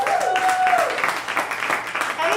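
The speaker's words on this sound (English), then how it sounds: "keep clapping" Steady applause from a crowd at a songwriting competition final in Asheville Music Hall fills the clip, with a faint tonal whistle or squeal riding over the clapping.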